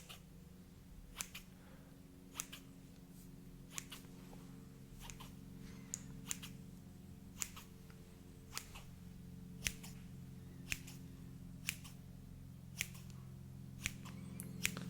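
Soft, regular snips of scissors repeating about once a second over a low steady hum, quiet and close.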